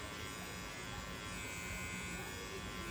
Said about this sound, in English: I'm gonna just flip the clipper. I'm gonna start fading more.